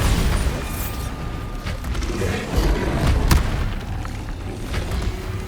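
The Bombarda explosion spell in the video game Hogwarts Legacy: a loud, dense burst of booming rumble and crackling debris that swells over a few seconds with a sharp crack near the middle, with no talking.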